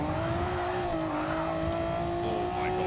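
A Gr.2 race car engine in Gran Turismo 7 howls loud and steady, with its pitch rising and falling through gear changes and a brief tire squeal.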